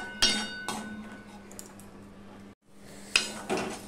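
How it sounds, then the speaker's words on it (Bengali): A spice mixture for a pumpkin curry is stirred in a pan. Sharp metallic clinks and knocks of a utensil against the pan come in separate bursts over a faint low background, with one brief silent gap. "এবার ভালো করে মিশিয়ে আমি কষাতে থাকবো।"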